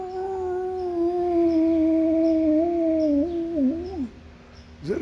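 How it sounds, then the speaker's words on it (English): A dog howls in a long, wavering, sustained note that bends and breaks into a whimpering yelp at the end, loud and near, alone without talk. "He was howling at the planer"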